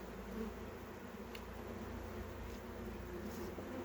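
Honeybees hum in a steady, dense buzz while hive frames are handled and bees are crowded onto fewer combs, continuous and moderately close with no talking.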